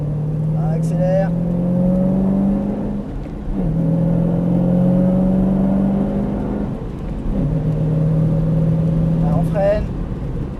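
A Ford Mustang Shelby GT500 engine pulls hard through three long acceleration runs, its loud rising drone broken by brief dips at each gear change, heard from inside the car.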